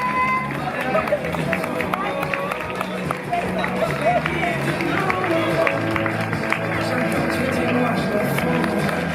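Steady crowd noise with scattered clapping and cheering for runners finishing an outdoor street running race, a busy event atmosphere with continuous hubbub and no clear pauses.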